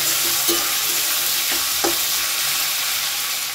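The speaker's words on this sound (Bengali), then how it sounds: "আলুটা সামান্য একটু ভাজা হয়েছে" Potato pieces sizzle loudly in hot oil in a pan, a dense continuous frying hiss with a few soft scraping stirs, cooked for chow mein.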